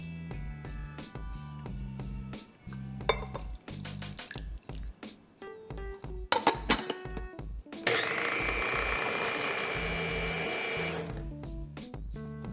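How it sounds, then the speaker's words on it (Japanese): A food processor mixes maple sugar, salt and hot melted butter, running in short rhythmic pulses before settling into a loud, sustained whirring spin near the end. "フープロにメープルシュガーとお塩を入れて、そこに溶かした熱々のバターを一緒に入れて回していきます"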